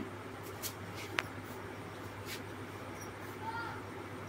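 Faint scratching of a pen writing by hand on paper while a math problem is set out, with soft intermittent strokes and one sharper tap over a steady low room hum.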